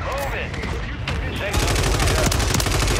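Rapid gunfire in a Call of Duty match, loud close bursts that start sparse and then turn into a dense stream of shots in the second half, with a voice briefly mixed in.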